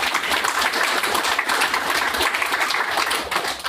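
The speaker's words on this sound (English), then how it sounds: "So let's give them a round of applause for that." Applause from an audience at an Austin tech meetup on APIs, Docker and microservices, honoring the evening's food and beer sponsor; a brisk, full round of clapping, fairly close and steady.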